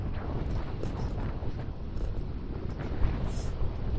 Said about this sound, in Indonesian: Anginnya kenceng banget, bro.